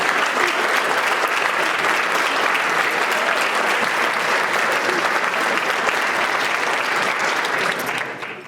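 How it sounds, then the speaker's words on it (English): An audience at a national newspaper awards ceremony applauds the judges, dense sustained clapping that stays loud for about eight seconds before quickly fading at the end. "on aimerait que les juges maintenant se lèvent pour qu'on puisse les applaudir"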